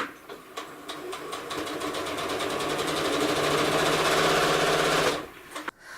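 A sewing machine fitted with a walking foot stitches a quilt in a steady, rapid mechanical run that builds and holds for about five seconds, then stops abruptly, close and alone.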